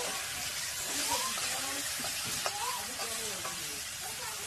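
Water lily stems and fish frying in a pan, a steady close sizzle with scraping stirs throughout and a voice talking over it.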